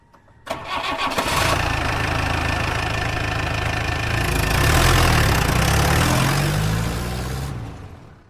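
A vehicle engine cranks and fires into a loud, steady idle close by, swelling briefly before cutting off, as a group of schoolchildren sets off on an outing.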